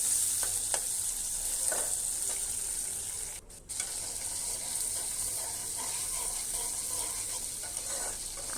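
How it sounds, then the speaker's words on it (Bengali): Garlic and green chillies stir-fried in a hot pan give a steady, close sizzle. Scattered spatula scrapes and clinks run through it, with one short lull partway through and no voices. "রসুন, কাঁচামরিচ আর কুচি একসাথে দিয়ে দিলাম। এখন নেড়ে চেড়ে ভেজে নেব।"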